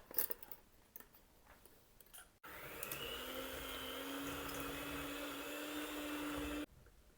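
An electric mixer beats butter for a banana cake. After a short stretch of quiet handling noise, the motor starts with a sudden, steady whir and hum, runs evenly for about four seconds, then cuts off abruptly.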